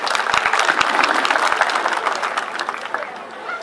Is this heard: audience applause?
yes